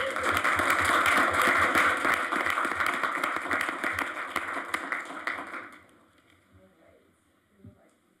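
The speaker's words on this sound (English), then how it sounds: "Let's give a round of applause." A round of applause fills a special city council meeting room, dense clapping from many hands lasting several seconds before tapering off, followed by quiet room murmur.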